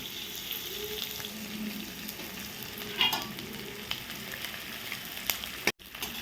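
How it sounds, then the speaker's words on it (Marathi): Edible gum (dink) frying in hot ghee for adadiya paak, giving a steady soft sizzle and crackle with a few brief stirring clinks, no talking. "अशाच प्रकारे आता हा डिंक आपण सगळा तळून घेऊया"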